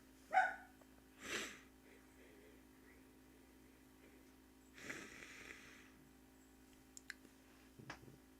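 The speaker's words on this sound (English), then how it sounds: "there's my dogs. You can hear them yelling." Indoor dogs south of Slidell bark in a few loud, sharp bursts during a severe April 2024 storm, with quieter yips and snorts between them against a steady low hum.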